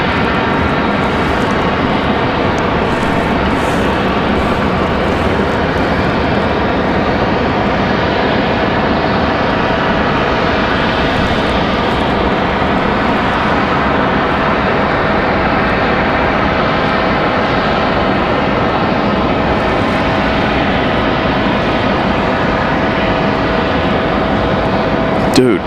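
American Airlines Airbus A319 jet arriving from Miami at Raleigh Durham International, a loud, steady roar of engines that holds through the whole stretch, with a voice speaking over it.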